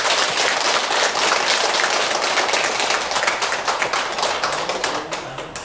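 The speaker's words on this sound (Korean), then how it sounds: "좋은 법문해 주신 동명 스님께 다시금 감사의 큰 박수" Audience applause for a monk after a Buddhist dharma talk, a dense sustained clapping that holds loud, then thins and becomes more scattered toward the end.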